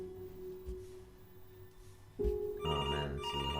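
A telephone rings inside the Before Your Eyes game, a faint steady tone at first, then a louder electronic ringing pattern joins in near the end.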